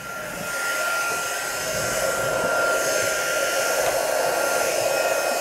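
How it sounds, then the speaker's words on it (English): A craft heat tool warms embossing powder on a stamped paper treat bag with a steady, close, blowing whir like a hair dryer, starting softly and holding an even roar. "Let's get our heat tool."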